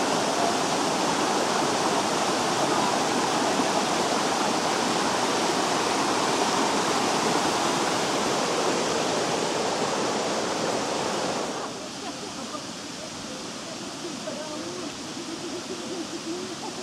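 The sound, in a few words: waterfall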